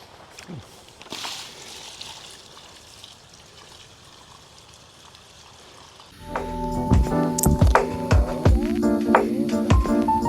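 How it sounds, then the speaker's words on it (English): Water from a 5-gallon bucket pours onto a newly planted fruit tree in an orchard, a soft outdoor splashing and trickling before louder clattering, knocking sounds take over the final seconds. "I'm really just pouring like an entire 5-gallon bucket on them to get them really watered in"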